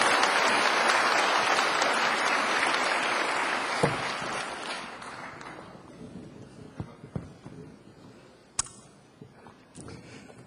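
Audience applause at a Korean speech event, loud and dense at first, then thinning out into scattered claps and fading to near silence.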